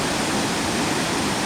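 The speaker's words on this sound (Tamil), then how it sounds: "இதுதான் பாகுபலி நீர்வீழ்ச்சிங்க" Athirapally waterfall in India roars with a dense, steady rush of falling water. The sound is loud and continuous, with no other sounds breaking through.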